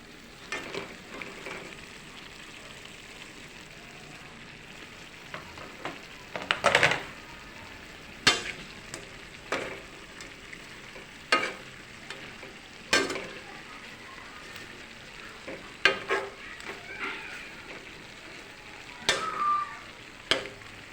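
Shrimp sizzle in a pan with anchovies (dilis), seasoned with a little vinegar and sugar, under steady frying hiss broken by repeated sharp scrapes and clinks of a utensil stirring against the pan.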